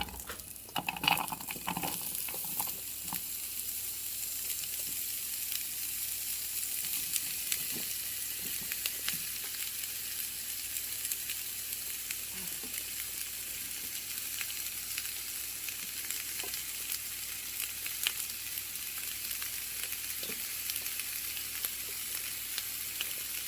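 Carrots, celery and onions frying in a pan lightly sprayed with avocado oil, giving a steady soft sizzle and crackle that holds for the whole stretch, with a few stirring bumps near the start and no talking.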